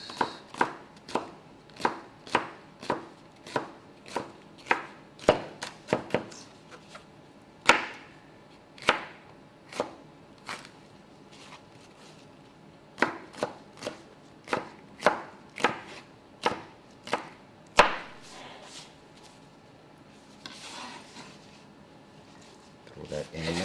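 A knife chopping through a vegetable lengthwise on a cutting board, a long series of crisp close thuds in an irregular steady rhythm with brief pauses, under intermittent talking.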